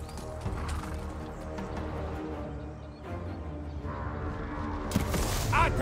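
Horses running in a Total War: Pharaoh battle. Steady clip-clop of hooves with occasional whinnies sits in a dense mix of battle noise, with a louder crash of impacts near the end.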